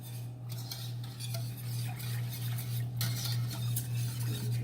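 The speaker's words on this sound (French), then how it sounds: "On va mélanger." Soy sauce and nutritional yeast being stirred together, with close metallic scraping and clinking of a spoon against a bowl over a steady low hum.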